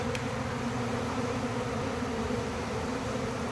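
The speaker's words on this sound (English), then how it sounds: "It seems like the majority of these bees" Dense, continuous buzzing of a honey bee swarm taking over an established hive close by, a steady droning hum with no talking.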